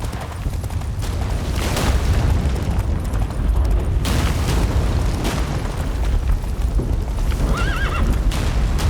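The Witcher 3 horse Roach gallops hard with loud clip-clop hoofbeats, neighs and whinnies over deep booming explosions in a chaotic battle scene.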